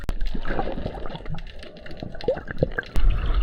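Sea water sloshing and splashing near a coastal sea cave at Samcheok on Korea's east coast, with irregular close splashes and drips, then a louder burst of water near the end.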